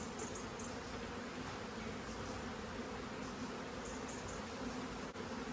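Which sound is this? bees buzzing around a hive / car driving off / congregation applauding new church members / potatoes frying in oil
bees buzzing around a hive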